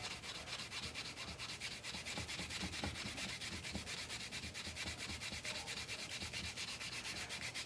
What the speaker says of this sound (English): take a piece of canvas and crank up the old elbow grease